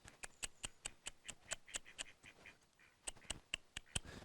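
A female duck giving a rapid run of faint, repeated quacks at a garden allotment, evenly paced with a short pause midway before resuming.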